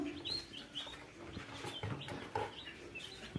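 White chicks peep softly in short, high, scattered calls, close by at low volume over faint background noise, with no talk.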